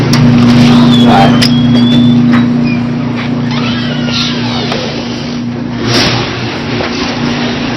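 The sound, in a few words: car engine being warmed up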